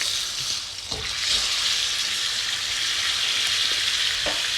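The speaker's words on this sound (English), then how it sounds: "So you want that nice frying away" Steak fries in a pan with a loud, steady sizzle. A few clinks and scrapes of the pan or utensil break through it, and no one speaks.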